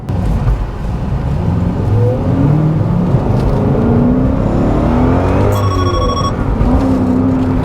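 Engine of a Ford BF MkII XR8 ute running loud and close, its tone rising and falling as it revs, with a brief electronic ringing tone partway through.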